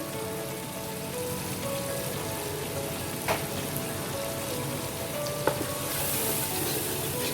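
Masala and spices fry in a pan over a high flame, giving a steady, close sizzling hiss throughout with a couple of brief clinks partway through; no one speaks.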